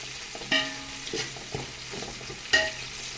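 Onions, spices, mint, coriander and green chilies for chicken biryani sautéing in a pot, with a soft background sizzle broken by two loud spoon-against-pan clanks and smaller stirring scrapes, no speech.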